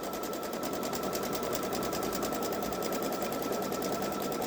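A Baby Lock Solaris 3 embroidery machine stitches an Easter design, its steady rapid needle hum running continuously and fairly close with no pauses.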